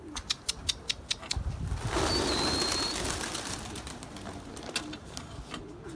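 Pigeons are heard outdoors, with a quick run of wing claps early on followed by a steadier rush of flapping and soft cooing, fairly close, without speech.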